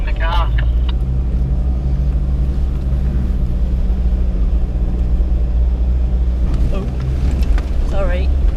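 4WD car driving on the Mt Margaret Track in Alpine National Park, a continuous low engine rumble from inside the vehicle, with people talking over it now and then.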